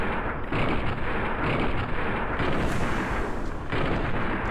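Gunfire in Fallout New Vegas: a dense, loud barrage of shots and blasts running nearly continuously and close, with no voices over it.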